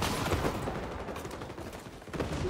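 Rapid submachine gun bursts in the XDefiant shooter, dense overlapping gunfire with sharp reports, steady and loud throughout with no voices over it.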